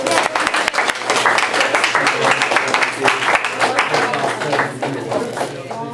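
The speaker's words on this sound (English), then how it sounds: "give a round of applause" A crowd applauds at a live comedy-style talk, dense clapping filling the space at steady loudness for several seconds, with scattered sharper claps standing out near the start.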